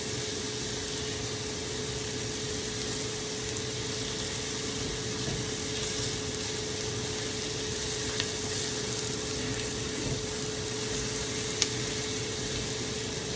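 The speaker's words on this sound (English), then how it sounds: "I'm going to cook these right till the onions get translucent" Onions frying in a pan for a French-style shepherd's pie, a steady, even sizzle that holds unbroken throughout at moderate loudness with no talk.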